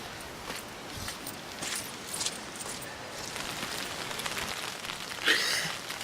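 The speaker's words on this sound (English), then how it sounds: "It's pissing down rain, which is typical." Heavy rain drumming steadily on a surface outside a fishing bivvy, a dense, even patter that fills the whole stretch at moderate level with no voices.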